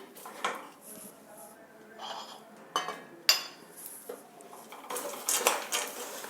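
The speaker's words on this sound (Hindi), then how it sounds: "और इनको चलाएंगे जिससे और इसको लगातार चलाते रहना है।" Roasted peanuts stirred through melted jaggery in a pan, with irregular scrapes and metallic clinks of a spoon against the pan, quiet and close, with faint room noise between strokes.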